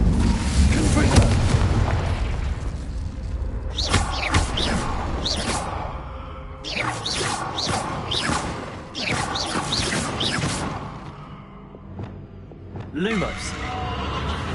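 Confringo explosive spell from Hogwarts Legacy, a series of sharp blasts and whooshing booms recurring every second or two over a rumbling combat backdrop, loud and near.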